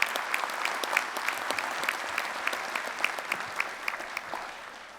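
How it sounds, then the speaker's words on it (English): Steady applause from a conference audience at a utility workers' union national convention, honoring staff and an organizer; many hands clapping in a dense, even patter with scattered sharper claps, fairly distant and continuous throughout. "give a round of applause to all of staff and George Mnugian"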